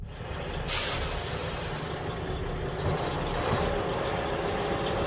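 A truck carrying vegetables toward Mumba on a rough road near Itezhi-Tezhi rumbles loudly and steadily up close, with a short burst of air hiss near the start.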